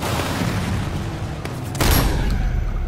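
Loud, continuous gunfire from a gun in a riot video game, a dense unbroken barrage of shots with a sharper, heavier burst near the end, with no talk over it.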